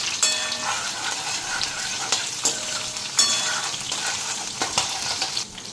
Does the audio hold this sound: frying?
yes